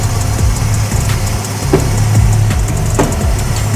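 A 2012 Chevrolet Malibu with the 2.4 Ecotec engine runs steadily while driving, a continuous low engine hum heard from inside the car with slight shifts in pitch and no talking.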